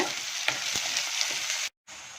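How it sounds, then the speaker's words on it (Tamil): Onions sautéing in a pan for a Tamil cluster beans masala, a steady close broadband sizzle with a few faint stirring clicks, broken by a brief gap of silence near the end. "வெங்காயம் நல்லா வதங்கிடுச்சு"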